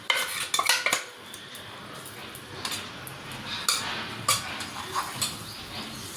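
A coarse moong dal paste is stirred and sautéed in a pan, heard as intermittent close spatula scrapes and metallic clinks against the pan over a faint sizzle.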